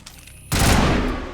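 A sudden, sharp gunshot blast in Mass Effect: Legendary Edition cuts through a quiet background and leaves a dense, sustained roar that rings on for nearly a second.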